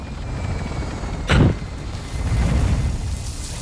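A helicopter in Call of Duty: Modern Warfare II, a low rotor rumble with a sharp whooshing burst passing close by midway before the thumping drone swells again.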